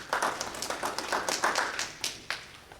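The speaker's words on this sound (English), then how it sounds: "Let's give Denise a round of applause." A small workshop group gives a short, light round of applause, scattered individual claps close by for a few seconds.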